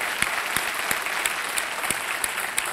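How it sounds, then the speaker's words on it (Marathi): A studio audience on the Marathi TV quiz show Kon Honar Crorepati claps in loud, sustained applause with sharp individual claps standing out rhythmically. "त्यासाठी आमच्यासाठी जोरदार टाळ्या व्हायला पाहिजे"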